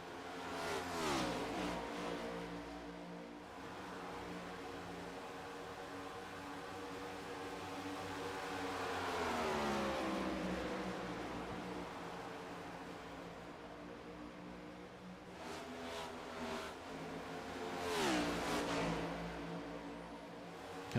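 Race cars in a dirt or oval race at Vegas roar past one after another, engines rising and falling in pitch as they approach and recede, with a steady background drone of more cars circling the track.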